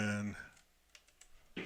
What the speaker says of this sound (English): And I'm going to type in the password.